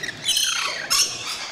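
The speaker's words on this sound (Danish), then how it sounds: "Er det ikke meget sjovt, Martin, at have en fugl på hovedet?" A lorikeet perched on a person's head at Jesperhus lets out harsh, shrill squawks at close range in two rough bursts, loud and alone without talk.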